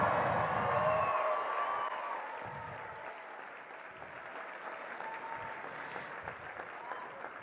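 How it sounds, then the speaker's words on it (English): An audience at a college commencement ceremony applauds steadily, the clapping loud at first then settling into a sustained, slightly softer wash, with some voices mixed in. "Let's please all give a warm applause again for the class of 2026."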